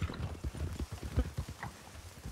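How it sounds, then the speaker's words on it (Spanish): Horse hooves clip-clop at a quick, fairly even pace on a ride in the RedM roleplay game, the muffled thuds continuous and moderately near with no one talking. "se aceleró mucho tu caballo"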